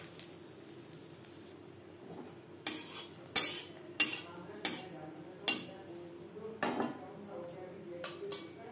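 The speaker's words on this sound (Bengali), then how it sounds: "লঙ্কা ভাজা হয়ে গেছে" Broken dried red chillies fry in four spoons of hot mustard oil, a faint sizzle under a series of sharp, evenly spaced clinks and scrapes as a spoon stirs against the pan.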